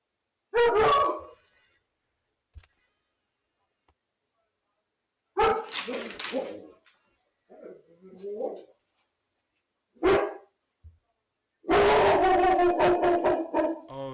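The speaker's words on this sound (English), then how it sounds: "So there's my dog and my partner's dog, two German shepherds." Two German shepherd dogs bark in separated bursts: single loud barks, a pause, then clusters of rapid, close barking, including a longer run at the end, with quiet gaps in between.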